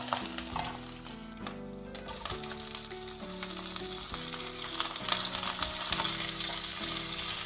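Dried red chilies, curry leaves and ginger-garlic paste fry in hot oil for a Kerala beef roast, crackling loud and continuously throughout.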